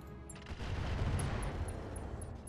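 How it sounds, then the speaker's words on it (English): Mech weapons firing in the RogueTech battle game, a short dense burst of rumbling gunfire and booms lasting a couple of seconds, moderately loud, with faint high pings over it. "Let's see if we can shoot him in the head."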